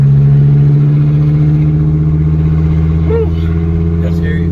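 A 1993 Dodge Viper RT/10 V10 engine accelerates with a passenger aboard. The steady harmonic drone is loud and close, with a slight rise in pitch.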